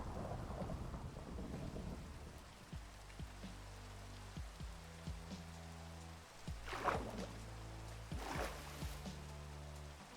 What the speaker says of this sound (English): Oh, thunderstorm.